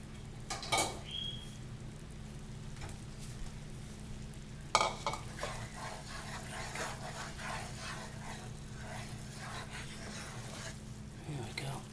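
Spaghetti and eggs being stirred gently in sauce in a pan while cooking Japanese spaghetti: soft scraping and scooping with faint sizzle and occasional utensil knocks, quiet and close.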